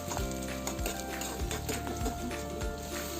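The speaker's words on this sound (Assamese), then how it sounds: "জিকাখিনি ট্ৰান্সপাৰেণ্ট হোৱালৈকে ভাজি ল'ম" Ridge gourd fries in a pan with onion and green chilli, giving a constant sizzle broken by about five rhythmic scraping knocks of a spatula stirring against the metal, close and clear.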